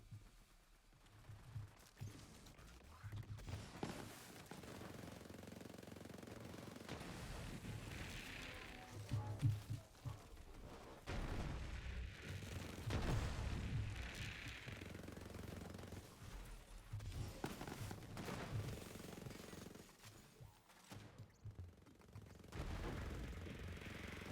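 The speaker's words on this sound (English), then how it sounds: "Pure explosion sounds is what I'm here for." Explosions and gunfire in a video game: dense bursts of machine-gun fire and booming blasts come in waves over about twenty seconds, with a faint voice now and then.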